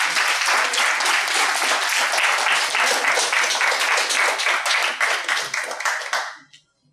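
Loud, sustained applause from a crowd, dense clapping that holds steady for several seconds before tapering off and stopping.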